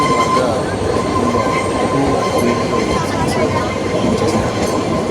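The Kalka–Shimla narrow gauge toy train runs on a mountain line, making a continuous close rumble of wheels and carriages with faint clatter and a thin high squeal over it.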